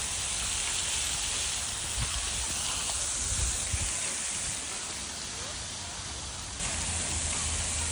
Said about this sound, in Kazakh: Mына жерде жаңбыр жауып жатқан ски.